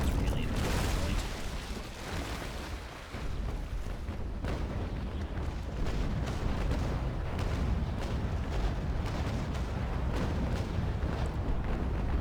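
Nine-pounder ship cannons fire during a sea battle in the game Naval Action, a rolling barrage of deep booms and cracks layered over continuous rumble, dense and loud throughout.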